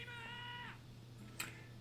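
Short meow from the cat character Grim in the game Twisted Wonderland, a single bright wavering cry over a steady low hum, followed by a faint brief click.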